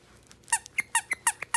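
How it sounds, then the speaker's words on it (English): A Disney Mickey-ears squeaky chew dog toy gives about seven or eight sharp, high squeaks in quick uneven succession, close and fairly loud, with no talking. "they are Mickey ears, and they squeak."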